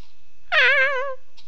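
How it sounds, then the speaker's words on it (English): A single drawn-out synthetic Minecraft cat meow with a wavering pitch, clear and close, lasting under a second against a faint steady background hum. "We have a cat!"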